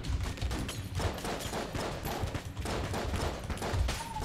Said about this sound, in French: Tant que je suis là, je vais plutôt utiliser mon petit flingue